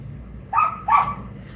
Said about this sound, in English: That's your dog barking